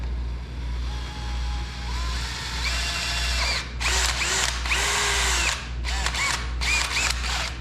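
Power drill boring bolt holes under the hood of a Jeep CJ2A, loud and close, with a steady whine that rises in pitch and then several short stop-start bursts of the motor.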